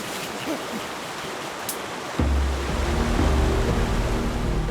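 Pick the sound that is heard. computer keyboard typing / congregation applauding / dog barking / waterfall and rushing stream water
waterfall and rushing stream water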